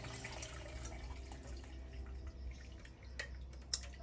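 Pozole liquid pours into a strainer with a steady watery rush and dripping, close by, with a few sharper splashes near the end.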